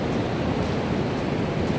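Loud, continuous roar of surf with rushing wind noise, the waves crashing close by without pause at Bai Bien beach in Da Nang, Vietnam.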